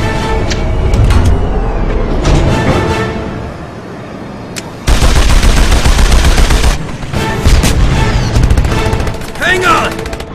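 In the Jak and Daxter: The Lost Frontier trailer, a mounted gun fires loud sustained bursts amid a dense, noisy action mix with engine roar, and voices speak over it.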